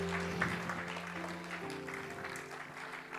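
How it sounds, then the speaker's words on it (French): A church congregation applauding the Lord, a faint, steady patter of clapping from many hands with sustained musical tones underneath, fairly distant and continuous throughout. "Est-ce que tu peux acclamer le Seigneur?"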